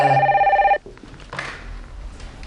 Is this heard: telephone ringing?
yes